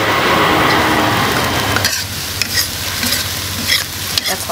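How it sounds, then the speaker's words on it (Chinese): Beef with chopped chili stir-fries in a wok, a loud, dense sizzle that eases slightly as a spatula scrapes and tosses in irregular clatters, with no talking. "来炒一下烤香啊"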